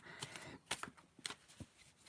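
Tarot cards are shuffled by hand in quick, soft riffling bursts, several brief flutters and taps very faint and close, with no voices.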